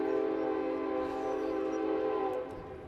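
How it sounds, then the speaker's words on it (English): A passing train sounds a long, loud, steady horn blast that holds for over two seconds, then drops off near the end. "And what is the train noise?"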